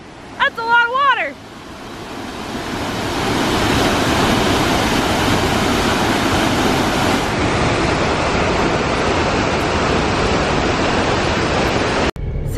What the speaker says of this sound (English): we are headed to a very big waterfall that happens to have a very, very big name